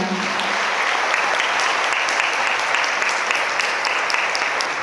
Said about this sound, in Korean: 신랑 신부님께 축복의 박수 부탁드립니다